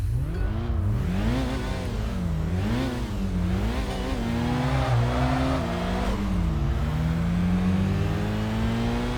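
A Toyota MR2 engine in the Kaido Racer 2 video game revs loudly and continuously, its pitch climbing and dropping in repeated waves with gear changes, close up and alone.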